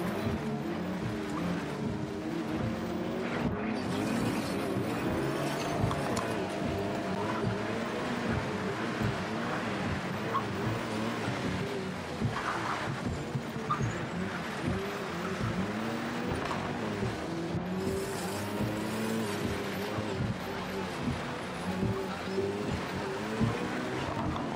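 A race car in Project CARS 3 lapping Indianapolis: a continuous engine roar and road noise that drone steadily from start to finish, with no breaks and no talking.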